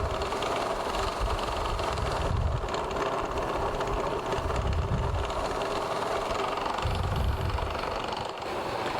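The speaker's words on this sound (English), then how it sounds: "And then periodically as I'm buffing, I'll recharge the wheel with buffing compound." A buffing wheel polishes the finish of a guitar body, making a loud, continuous motor drone with low swells rising and falling every few seconds as the body is worked against the wheel.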